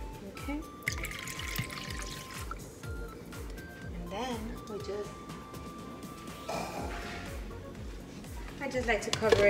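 Cornmeal being rinsed in a bowl of water, with gentle sloshing, trickling and dripping sounds running under steady talk from a nearby voice.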